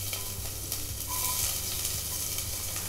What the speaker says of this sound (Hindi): तो यहाँ पे प्याज को मैंने 30-40 सेकेंड तक हल्का सा सॉटे किया है।